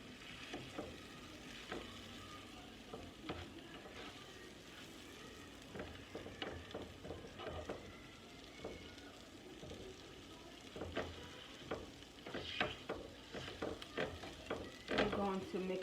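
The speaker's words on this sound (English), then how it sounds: "I'm going to mix in the onions now. They're over here heating up and stuff." Onions fry in a skillet for a vegan chopped cheese while a spatula stirs and scrapes them, a soft, steady sizzle broken by repeated scraping strokes that grow louder near the end.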